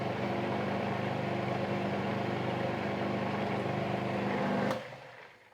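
A blender motor whirs steadily while blending a creamy vegan Alfredo sauce, a loud, constant drone with a buzzing hum, then cuts off near the end and spins down into quiet.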